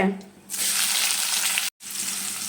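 Cinnamon, cloves and stone flower dropped into hot oil, bursting into a loud, close, hissing sizzle that breaks off briefly near the end and then resumes.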